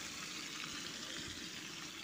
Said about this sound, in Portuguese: fritando uma linguiça de porco